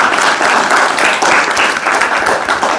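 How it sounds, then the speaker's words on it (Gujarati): A crowd at a children's event applauds a young girl who writes stories. The clapping is loud, close and continuous, with a steady rhythm and no talk over it. "બેન બેનને એકવાર તાળીથી વધાવી"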